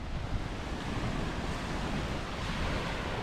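Ocean surf rolls under an overcast sky on the coast of Antique, Philippines, with sea breeze buffeting the microphone in a steady, moderately loud wash.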